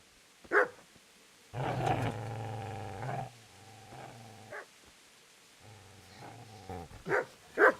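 A dog in the game Kingdom Come: Deliverance lets out sharp, close barks and a long rough growl, with spaced barks and snarls following in bursts.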